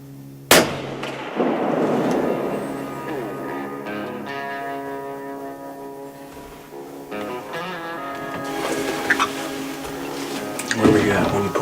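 A single loud rifle shot cracks out during a doe hunt outdoors, then fades into a long ringing tail while people talk nearby.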